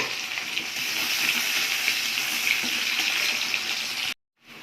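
Cinnamon, cardamom and cloves fry in hot oil for an Indian curry, making a loud, close, continuous sizzle that cuts off abruptly near the end.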